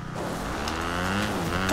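A car in the Fortnite video game drives nearby, a steady engine drone that rises slightly in pitch and loudness over a couple of seconds, heard alone without voices.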